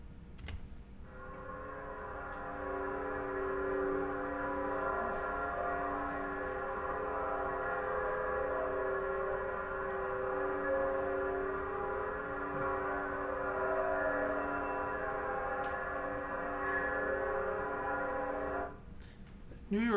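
Seismic accelerometer recording of a 1,000-year-old Buddhist temple bell in Kyoto at rest, a sustained layered hum of steady tones holding for about eighteen seconds, even and unbroken, with no people talking.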